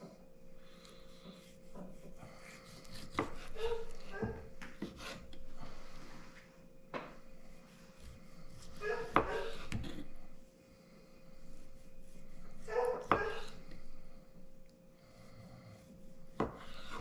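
A knife cuts a raw deer heart into half-inch thick slices on a board, giving repeated close rubbing, scraping strokes with soft knocks in between.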